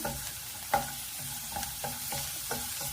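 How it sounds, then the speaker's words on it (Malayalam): Potato and onion frying in a pan, stirred with a spoon: a quiet, steady sizzle broken by regular scraping stirs, with no talking. "ഉരുളക്കിഴങ്ങ് സവാള ഫ്രൈ ആയി വരുന്നുണ്ട്."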